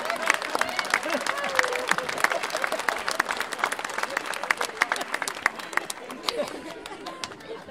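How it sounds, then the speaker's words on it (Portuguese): Audience applause at a live storytelling performance in Portuguese, a sustained wash of many hands clapping at moderate volume with crowd chatter mixed in throughout. "Podem bater palmas quando quiserem."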